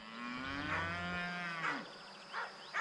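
Cattle in a farm herd lowing, one long drawn-out moo up close followed by several shorter, fainter calls from other animals.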